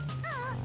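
A dog gives a short, high, wavering whimpering yelp, close and fairly soft, over a low steady hum with no one talking.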